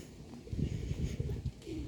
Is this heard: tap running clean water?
no